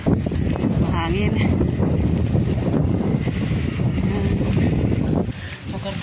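Steady wind rushes and buffets against the microphone, a constant roar under occasional talking throughout.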